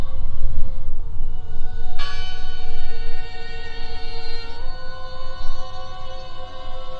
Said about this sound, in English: Listen! The bell! They're still in there!